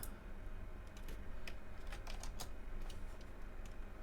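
Someone types on a computer keyboard while building a Figma design, producing a steady run of quick, close, light key clicks with a few sharper taps.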